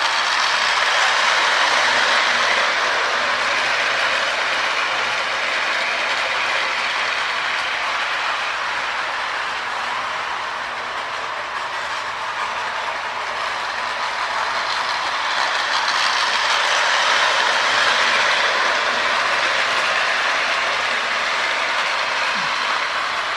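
A K-Line S2 toy locomotive in Burlington livery, built on a Marx mold with dual motors and traction tires, whirs along its track in a continuous bright mechanical hum with light rattling, steady and close.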